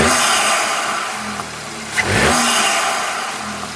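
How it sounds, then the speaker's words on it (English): A VW GTI MK7.5 with an upgraded turbo muffler and turbo inlet revs nearby and then drops back, a brief turbo flutter sounding as the throttle closes, with a small blip afterward. "There's definitely like more turbo flutter."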